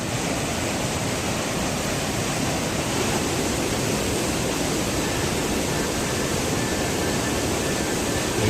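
Keralamkundu waterfall, a tall cascade of roughly 1500 feet, roars as a continuous, loud, even rush of falling water heard from near its base, with no voices.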